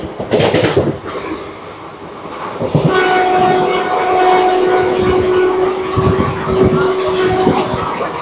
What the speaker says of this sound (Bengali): গাড়ি এখন আমরা ট্রেনের মধ্যেই রয়েছি।